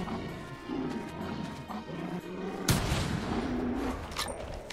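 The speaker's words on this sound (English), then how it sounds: "And we didn't get a vital shot." Rifle shot at a werewolf in the hunting game theHunter: a sudden loud, sharp crack cuts through the steady outdoor ambience and leaves a lingering rumble behind it.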